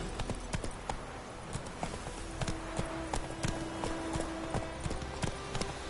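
Roach, the horse in the video game The Witcher, moves along with rhythmic hooves clip-clopping steadily over a constant ambient background, moderately close.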